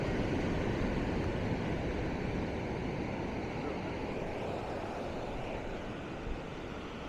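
Ocean surf rolls onto a Phuket beach as a continuous broad wash of waves mixed with wind buffeting the microphone, steady and fairly loud with no clear voices.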